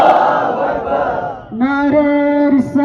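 Protest rally crowd answering the Nara-e-Takbeer slogan for a mosque tragedy, a broad roar of many voices followed by a long, sustained unison chant, loud and close.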